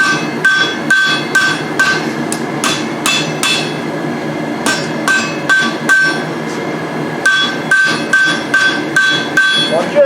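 Hot steel struck with a hammer against the edge of an anvil while forging blacksmith tongs, giving a steady series of loud, ringing, close blows with brief pauses between runs of strikes.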